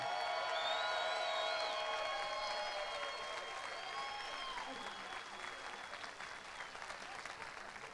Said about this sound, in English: Ladies and gentlemen, a round of applause for our future